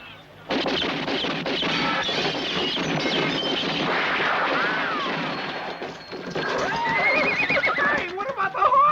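Horses neigh and whinny loudly in a spaghetti western film, with clip-clopping hooves and crashing thuds under the calls, plus a rising whinny near the end.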